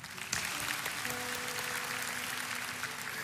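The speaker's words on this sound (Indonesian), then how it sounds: "Kasih tepuk tangan untuk Tuhan." Congregation in a church applauding steadily together for a few seconds, a dense wash of clapping with a faint held tone underneath.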